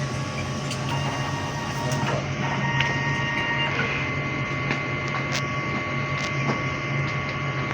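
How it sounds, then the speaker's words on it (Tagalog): An inkjet printer runs a manual head-cleaning cycle, giving a steady mechanical whir and hum with faint clicks, fairly quiet and continuous with no talking. "Mag-manual head cleaning tayo dito sa printer."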